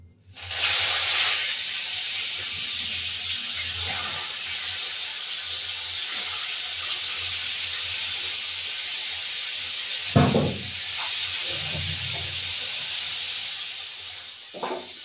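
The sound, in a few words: small rui fish frying and sizzling in oil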